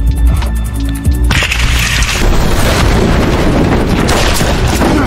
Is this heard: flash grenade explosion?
yes